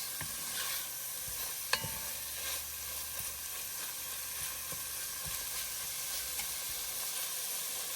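Lamb curry spices sautéing in a pan, a steady close crackling sizzle with occasional spoon clinks and scrapes as the mixture is stirred, no voices.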